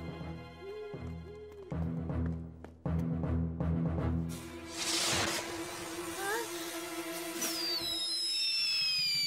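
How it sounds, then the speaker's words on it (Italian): Cartoon fireworks set off during a house fire, whistling rockets rising and crackling bursts over a musical score, with the effects growing louder and denser toward the end. "Oh no, i fuochi d'artificio."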